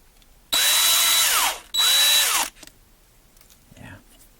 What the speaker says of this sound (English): I got to drill that out or get some pliers on it, but I'll drill it out